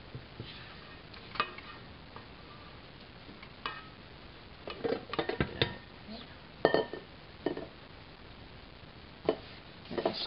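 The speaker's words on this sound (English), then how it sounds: "And then scrape the edges of the bowl also." A utensil scrapes and taps around the edges of a mixing bowl while making fruit pizza dough, giving scattered clinks and short scratchy strokes that are mostly faint, with a few sharper knocks.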